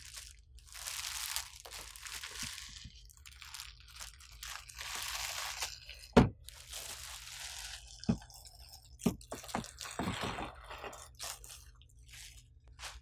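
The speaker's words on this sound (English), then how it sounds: "Now we can slide the printer out of the plastic bag." A printer is slid out of a plastic bag, giving soft crinkling and rustling in quiet bursts with a few sharp crackles and taps throughout.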